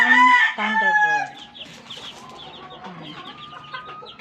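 Chicks peep in high, thin calls while a hen clucks loudly at the start, then the peeping continues steadily and more softly.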